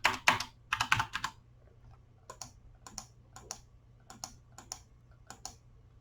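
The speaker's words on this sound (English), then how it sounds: "I need to type in my super secret code" Close, crisp clicks of keys tapped to enter a code on a mobile phone, arriving in short quick bursts and then single evenly spaced taps against a quiet background.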